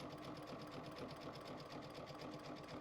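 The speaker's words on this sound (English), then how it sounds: "we're going to do a zigzag stitch" A sewing machine runs a zigzag stitch along a fabric edge for a quilted backpack zipper gusset, producing a quiet, even, rapid needle chatter that continues without a break.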